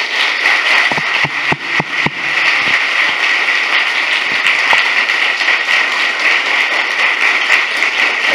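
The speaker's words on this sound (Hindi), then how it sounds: "मैं चाहता हूं सबसे पहले हम जोरदार ताली प्रभु यीशु के लिए बजाएं।" A church congregation gives loud, sustained applause, dense steady clapping with a few sharper claps near the start, continuing unbroken with no voices over it.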